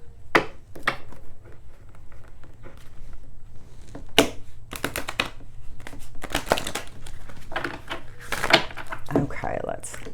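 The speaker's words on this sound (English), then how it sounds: "I'm going to do one more shuffle." Tarot cards being shuffled by hand, a run of crisp riffling and slapping bursts at irregular intervals, close up, with a voice talking over parts of it.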